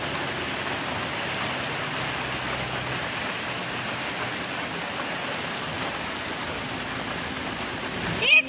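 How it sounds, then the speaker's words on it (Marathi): Heavy rain pours outdoors beside a road, a steady, dense hiss of falling water that holds evenly throughout with no talking. "खूप मोठा पाऊस यायला लागला बघा"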